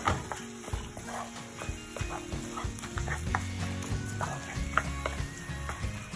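Salt being stirred into a mutton roast in a pan, with scraping and clinking of a spoon against metal over a soft sizzle, fairly quiet and irregular.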